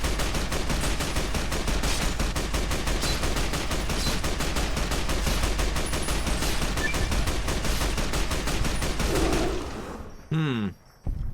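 The All-American rifle in Fallout: New Vegas firing .223 rounds in a rapid, steady burst of loud, close shots for about ten seconds, then stopping, followed by a brief mechanical reload-like sound.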